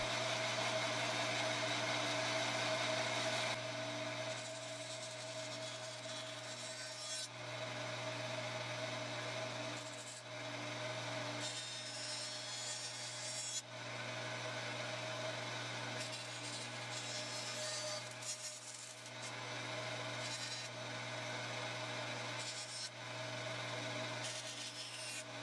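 A glued wooden guitar neck blank is roughly cut to shape with a steady, continuous machine whine and a rasping cut that runs the whole time, dipping briefly in several spots, close and fairly loud with no talking.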